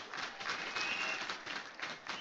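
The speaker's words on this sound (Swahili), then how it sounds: "Jamani, simpigie Mheshimiwa Rais makofi." A church congregation at JCM church claps for the president, a dense, steady wash of applause from many hands filling the room without pause and with no voices rising above it.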